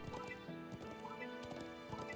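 Horse hooves clop in a quick, steady rhythm as a character rides in the video game Trails of Cold Steel 4, the hoofbeats loud and continuous over a busy game soundtrack.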